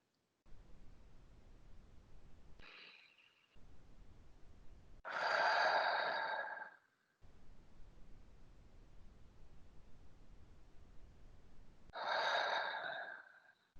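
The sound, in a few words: slow breathing in and out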